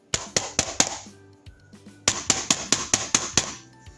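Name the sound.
knock on a door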